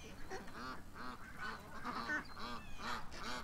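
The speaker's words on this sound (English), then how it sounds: "our little mallard, female, right here, right in front of me" A small female mallard duck calls close by in a rapid series of raspy, nasal quacks, repeated rhythmically over a few seconds with faint background noise.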